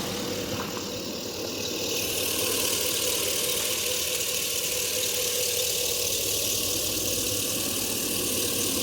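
A 2018 Chevy Silverado 2500 HD pickup's 6.0 liter gas engine runs steadily at idle, a loud continuous hum with a faint whine on top, close by and with no voices.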